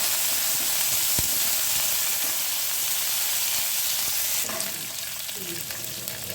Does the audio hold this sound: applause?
no